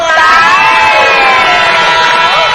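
A studio audience on an Indonesian TV gossip talk show cheers and shouts loudly for a guest singer, a dense, sustained roar of voices and whoops that fills the space from start to end.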